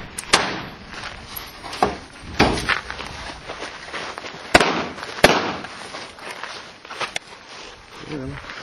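Sharp, separate pistol shots ring out on the pistol-only stage of a 3-gun shooting match held outdoors in Tucson in 2002. The reports come irregularly, a few loud cracks spaced across the stretch, over a faint background of movement and some talk.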